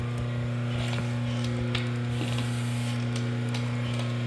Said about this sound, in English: I'm going to crank this book through